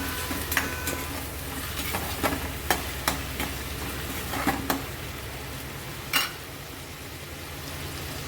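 Tomatoes stirred into frying onions in a pan for a sprouted moong curry, steady low sizzle with scattered sharp clinks and scrapes of a spoon against the pan, no talking.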